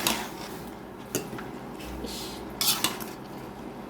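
A utensil stirs red amaranth greens frying in a pan, giving sharp scraping clinks against the metal over a low sizzle, fairly close and quiet, with a brief spoken exclamation.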